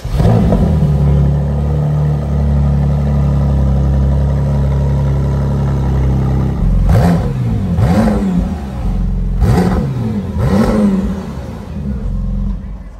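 A McLaren Artura's twin-turbo V6 at a reveal event settles from a steady low rumble into several sharp revs around the middle and end, with voices talking nearby throughout.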